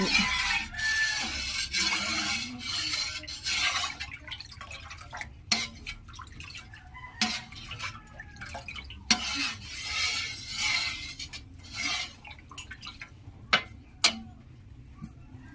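Cornstarch mixture for maja being stirred in a pot, heard as irregular scraping and soft clicking strokes with wet dripping sounds, close up over several seconds and without any speech.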